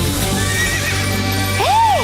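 A cartoon wooden horse gives a close, bright whinny over a steady bed of clip-clopping hooves and a busy background, the neigh rising and falling near the end.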